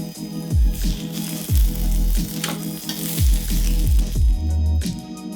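Chicken browning in oil and butter in a frying pan, a loud close sizzle punctuated by a series of heavy knocks and scrapes as pieces are turned and moved, with no speech.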